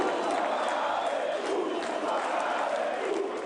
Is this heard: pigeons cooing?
no